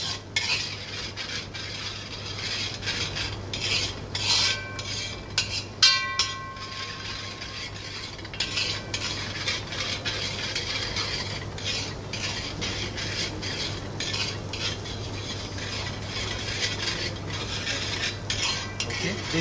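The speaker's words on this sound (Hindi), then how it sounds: "सो ब्राउन अनियन पेस्ट को थोड़ा सा हम यहाँ पे कुक करेंगे" Brown onion paste for paneer rogan josh cooking in oil in a pan, a steady low sizzle under repeated close spoon strokes and scrapes, with a few brief metallic clinks, and nobody talking.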